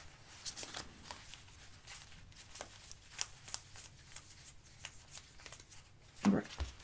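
Tarot cards being shuffled for a reading, a series of close, quick riffling and flicking bursts that repeat steadily throughout, ending with a louder handling clatter.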